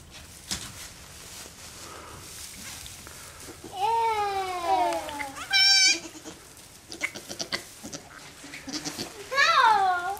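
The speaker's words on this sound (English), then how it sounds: "There's a goat in there." A newborn goat bleats during birth, several high wavering cries rising and falling, close by, with a short burst of noise between them and people talking quietly in the background.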